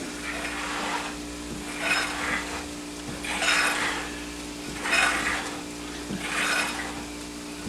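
Milk being stirred into sausage gravy in a pan, giving soft scraping swirls that rise and fall about every one and a half seconds over a low steady hum, with no talking.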